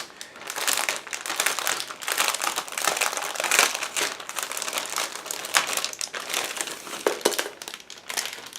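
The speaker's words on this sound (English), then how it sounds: "give me a second to open this plastic bag" Continuous crinkling and crumpling of a plastic bag holding scale model kit parts, close and busy, with irregular sharper rustles throughout.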